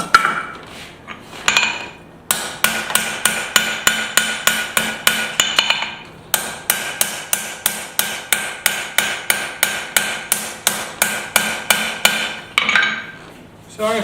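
A hammer pounds bevels into a hot scrap-steel knife blade, landing loud, close, ringing blows in a steady quick rhythm, broken by a few short pauses.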